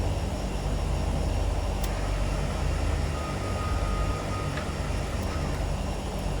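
Turbine Duke V2 engine in a flight simulator, a steady broadband whine and low rumble holding constant throughout, with faint tonal hum and a few brief higher ticks, no voices.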